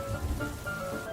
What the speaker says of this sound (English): water pattering on the roof.